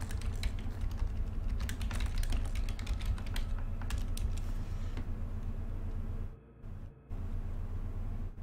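A computer keyboard clatters with quick, irregular clicks and taps over a low rumbling background, close and moderately loud, with the keystrokes thinning out toward the end alongside two short dropouts in the sound.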